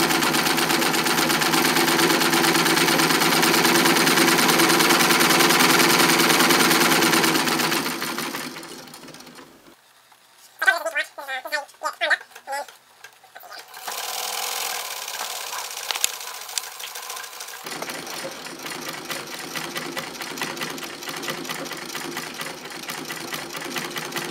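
A 1908 Singer sewing machine runs with a fast, even mechanical whir as it fills a bobbin. It stops, a few clicks and clatters follow, then quieter running resumes.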